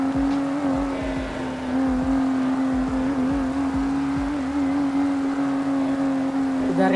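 A loud car engine in GTA V hums at a steady pitch with slight revving swells, continuous and close throughout.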